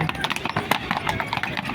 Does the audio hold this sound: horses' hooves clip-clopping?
yes